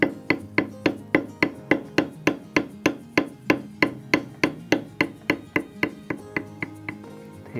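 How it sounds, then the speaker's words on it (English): Mallet strikes on a number two beveler tooling leather around a leaf stem, about two dozen sharp, evenly spaced taps at a brisk steady rhythm, close and loud, with no talking. "I'm going to go ahead and bevel this out again, and I'm going to start with my number two beveler on the stem"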